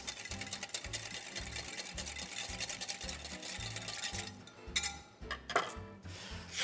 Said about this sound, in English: I'll just whisk that together.